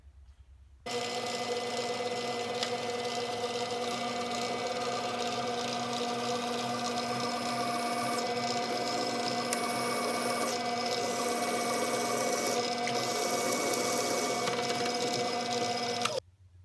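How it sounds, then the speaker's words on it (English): A motorized drill whines steadily at close range for about fifteen seconds, a continuous tonal hum with slight grinding as the bit bites into san mai knife steel. "I use for cooling down the bit when I'm drilling"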